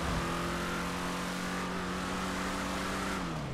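A Tornado Rat Rod car drives in a video game, its engine holding a steady droning hum with little change in pitch, loud and continuous throughout.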